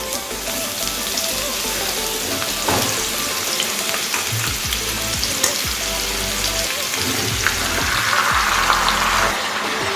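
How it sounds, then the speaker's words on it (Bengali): Thin strips of bottle gourd (lau) sizzle loudly in hot oil tempered with bay leaf, a dense, continuous frying hiss with stirring scrapes of a spatula close by. "ফোড়নটা হয়ে গেলে এর মধ্যে আমি সরু সরু করে কেটে রাখা লাউয়ের টুকরো অ্যাড করে দিচ্ছি"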